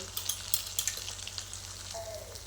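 Spices crackle and sizzle in hot oil as tempering for a sorrel vegetable dish, with quick popping bursts over a steady frying hiss, close up.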